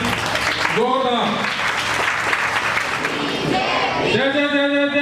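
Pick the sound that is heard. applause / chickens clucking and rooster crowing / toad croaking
applause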